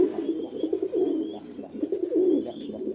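Pigeons coo close by in soft, low, rolling throaty calls that repeat and overlap, with faint background chatter.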